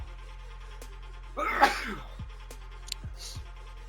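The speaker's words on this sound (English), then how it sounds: "Gonna sneeze." One close sneeze erupts in the middle over a low electrical hum, followed by a few faint clicks and a soft breath.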